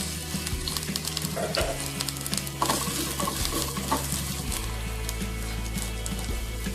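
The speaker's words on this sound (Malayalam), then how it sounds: "ആദ്യം എടുത്ത് വെച്ചിരുന്ന ഉള്ളി അത് നമുക്ക് താളിച്ചിടാം" Shallots sizzle in coconut oil with curry leaves in a clay pot for a Kerala fish curry, a steady close frying hiss broken by repeated scraping stirs of a spoon.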